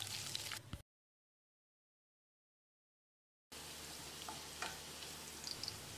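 Garlic and fennel seeds frying in oil in a pan give a close, steady crackling sizzle that cuts out to silence for a few seconds, then resumes just as steadily, with no voices.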